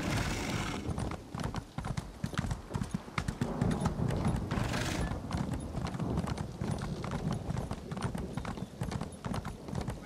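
Horse hooves in The Elder Scrolls Online galloping in a steady, fast clip-clop rhythm, loud and close throughout, with faint game ambience beneath and no talk.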